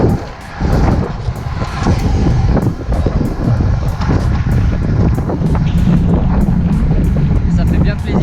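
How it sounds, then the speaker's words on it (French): Wind roaring across the microphone while cycling fast downhill on a long road ride, a loud, buffeting, continuous rumble with gusty peaks, with a voice speaking underneath in French. "même s'il y a beaucoup de vent"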